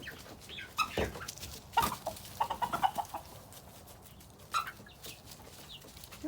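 Hens cluck in short, scattered bursts at close range, with a few sharper squawks breaking through the quieter farmyard background.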